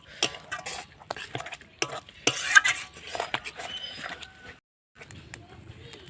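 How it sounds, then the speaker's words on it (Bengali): Khesari greens ghonto thickened with rice flour paste being stirred in a pan, a spatula scraping and clinking against the metal in uneven strokes over a faint sizzle, close, with a brief pause near the end. "এবার ভালো করে আমি নাড়তেই থাকবো"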